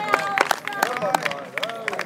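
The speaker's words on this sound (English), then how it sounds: "Round of applause." Scattered applause from a small crowd at an outdoor Robert the Bruce rally, a few sharp claps mixed with chatter and voices over about two seconds.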